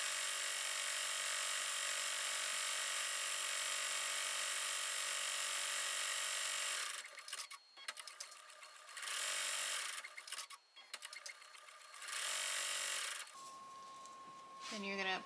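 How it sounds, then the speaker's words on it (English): An EM1010 embroidery machine sews a placement stitch on shirt fabric with a steady, fast, close mechanical chatter, then stops and starts in short bursts with gaps between them. "Now it's going to do the placement stitch for our fabric."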